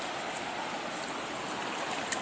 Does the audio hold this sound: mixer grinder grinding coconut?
no